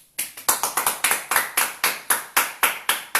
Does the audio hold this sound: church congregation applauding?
yes